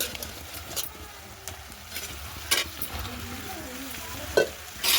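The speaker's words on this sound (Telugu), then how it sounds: "ఈ పుట్టగొడుగులు కూడా మనకి ఫ్రై అవ్వాలి" Mushrooms frying with onions in a kadai give a steady sizzle with occasional stirring scrapes and clinks, close by and moderately loud, with no talking.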